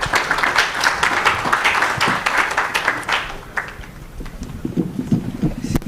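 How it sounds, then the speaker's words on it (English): A conference audience applauds, a dense wash of many hands clapping that stays steady for about three seconds, then thins and fades to scattered claps with a faint voice underneath. "Let's give Coco a round of applause for excellent moderation"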